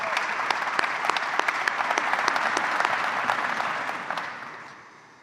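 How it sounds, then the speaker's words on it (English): Audience at a city's State of the City address giving a round of applause: dense, sustained clapping from many hands that tapers off toward the end. "If we could join me in a quick round of applause and appreciation for them tonight."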